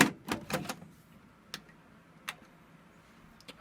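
A few quiet mechanical clicks from a faulty Pioneer PD-M701 CD deck that won't play, a quick cluster at first and then isolated single ticks spaced apart, against a faint background hum.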